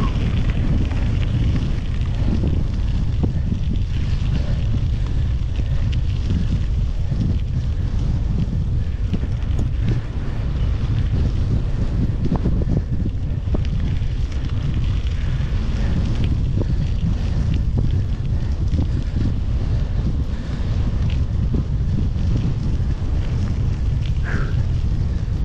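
Strong wind roars across the Passage du Gois causeway at Noirmoutier, buffeting the microphone in a constant loud rumble with gusty surges through the whole stretch.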